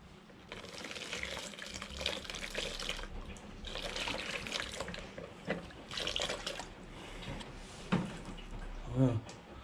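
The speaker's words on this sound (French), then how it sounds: "Tu rinces à l'eau chaude propre." Clean hot water runs from a tap while a Renault Megane 2 1.5 dCi car part is rinsed in a sink, a steady splashing stream with brief drips and a voice speaking over it.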